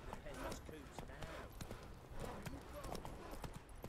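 Roach, a horse in Witcher 3, walks with steady, fairly close clip-clopping hooves in a regular rhythm while someone talks over the steps.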